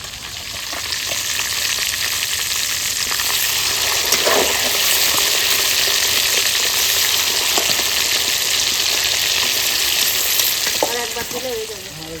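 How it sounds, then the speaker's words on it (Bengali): Cooked rice fries in oil in a home kitchen pan, giving a loud, continuous sizzle with scraping stir strokes throughout, close and steady until it fades slightly at the end. "ভাত ভেজে নেব"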